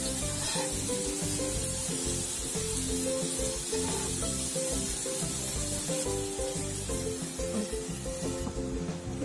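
Chicken tikka pieces sizzle in oil in a pan over medium heat, a steady close bright hiss and crackle running throughout with no talk.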